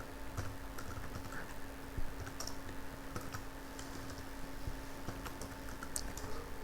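Steady typing on a computer keyboard with quick irregular keystrokes, fairly faint against a constant background hum, with no one speaking.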